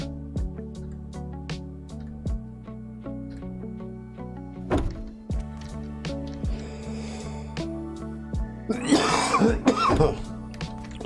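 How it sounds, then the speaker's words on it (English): A person coughs several times, harsh bursts near 5 seconds and a longer rough fit near the end, over steady background music during a Rust base-building session; no talk. "Sorry about the coughing, guys."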